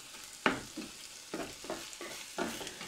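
Peeled tomatoes broken up with a wooden spoon in a pan, several separate wet squelching scrapes and stirs at close range, with no talking.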